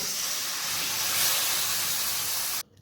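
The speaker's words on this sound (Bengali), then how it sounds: "এরপর এখানে 2 থেকে 3 কাপের মতো জল অ্যাড করব।" Water poured into a hot pan of spiced soybean curry sets off a loud, steady steaming hiss and sizzle that holds for over two seconds, then cuts off abruptly.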